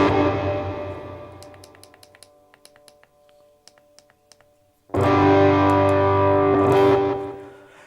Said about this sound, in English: You either get a little reverb or a lot of reverb.